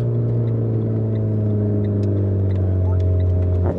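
A Porsche at the Nürburgring gives a loud, steady engine drone with a strong low hum and stacked tones, rising slightly in pitch toward the end as it passes close by.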